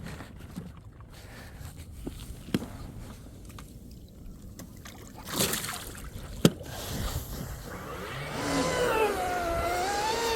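An RC Marine Dominator boat with a TP Power 4070 1520KV motor and Castle Creations XLX2 controller runs on open water in wind, its motor whine rising and falling at a distance, with rushing water and wind buffeting throughout.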